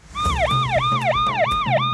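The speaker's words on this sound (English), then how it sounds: "Ricky, can you turn on your siren for a second?" A Rescue Tayo Team rescue vehicle sounds its siren briefly, a close, loud wailing sweep rising and falling about four times in quick succession over a low engine hum.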